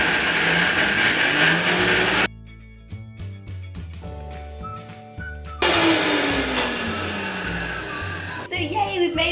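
An electric mixer whisks raw cashew icing in a loud, continuous whir that runs, drops out while music plays, then starts up again for a second long burst.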